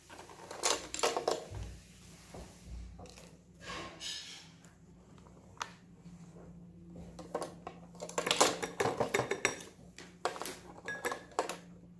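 A spoon mixes a turmeric paste in a small bowl with intermittent scraping and clinking bursts, close and fairly quiet, separated by short pauses.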